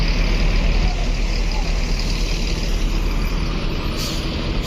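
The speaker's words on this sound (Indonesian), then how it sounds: "Dan di sini ada mobil bus Al Hijrah ya." An Al Hijrah intercity bus at a busy bus terminal, giving a loud, continuous engine rumble and broad road noise close by, with a brief hiss near the end.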